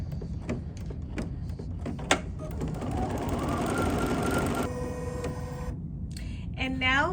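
An embroidery machine stitches around the perimeter of a quilted piece, a steady mechanical whir with rhythmic needle clicks, moderately loud and continuous before cutting out near the end.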